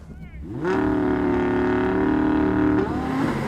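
A supercar engine revs up sharply and holds a loud, steady high-pitched roar for a couple of seconds before dropping off.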